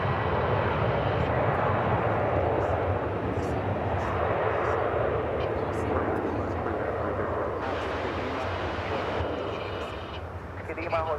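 A Boeing 767 airliner with winglets roars down the runway on takeoff at DFW Airport, bound for Phoenix, making a loud, steady, broadband jet rumble that holds for several seconds before easing slightly.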